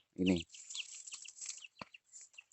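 A low cooing zebra dove call sounds nearby, followed by a spell of high chirps and twitters from several birds.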